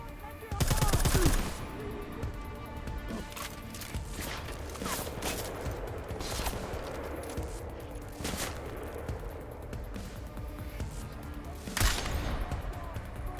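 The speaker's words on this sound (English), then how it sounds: "Did I just shoot his invisible mask off?" Sustained gunfire in the video game Deus Ex: Mankind Divided: bursts of shots over steady game noise and music, with a loud blast near the start and another near the end, a voice talking at times.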